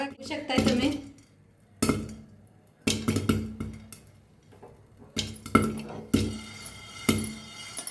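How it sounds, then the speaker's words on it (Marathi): Grains are stirred and dry-roasted in a metal pan, producing repeated bursts of scraping and clattering spoon strokes separated by brief pauses. "असं हलवतच भाजायचं बघा किती मस्त भाजलं बघा सगळं"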